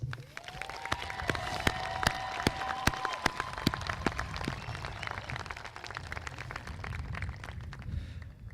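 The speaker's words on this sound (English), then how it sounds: "they deserve a round of applause." A crowd at an 8th grade promotion ceremony applauds steadily, dense clapping with a few sharp claps standing out, while a faint tone sweeps in the background early on.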